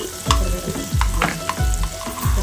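Tomatoes fry in hot oil for a curry while a spoon stirs and scrapes the pan, giving loud, close sizzling with rhythmic scraping strokes repeating about every half second.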